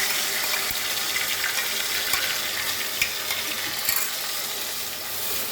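Garlic, onion and tomato paste fry with roasted cumin in a hot pan, giving a continuous close sizzle and crackle with a few small utensil clicks and no talking.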